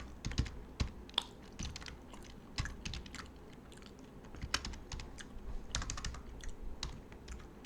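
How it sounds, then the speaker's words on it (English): Quick, uneven typing on a computer keyboard, close and fairly quiet, with clusters of clicking keystrokes separated by brief pauses. "I'm whiffing so badly at typing"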